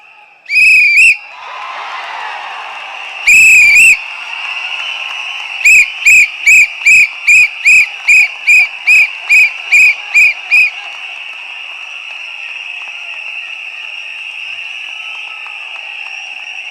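Shrill whistles at a Tamilaga Vettri Kazhagam political rally for Vijay: a sustained high piercing tone runs underneath, broken by a few long blasts and then a rapid rhythmic series of short, loud toots.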